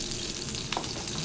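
A pork chop fries in a pan, giving a steady, dense crackling sizzle that stays even and close for the whole short moment, with no talking.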